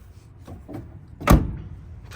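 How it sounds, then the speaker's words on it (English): The door of a 1968 Chevrolet Biscayne wagon with a big block is pushed closed. A few soft creaks and rattles lead up to a single solid, close thud, then quiet. "Love how wagon doors shut."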